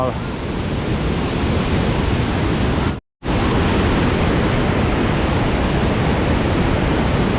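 Tat Sae waterfall in Luang Prabang, Laos, gives a loud, steady roar of falling water, broad and unbroken apart from one brief dropout partway through.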